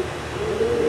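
Pigeons cooing close by, a brief low soft coo rising over faint background noise.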